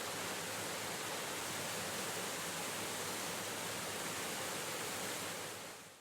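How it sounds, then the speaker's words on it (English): Peavine Falls, a spring-fed waterfall about 65 feet tall, pours in a steady broadband roar, loud and continuous with no voices, fading out slightly at the very end. "Peavine Falls is a spring-fed waterfall that is approximately 65 feet tall."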